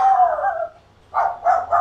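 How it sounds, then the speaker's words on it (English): Several dogs bark and yelp nearby in a short burst, a drawn-out howl-like bark followed by three quick barks, with no talking. "Apologies for the barking dogs"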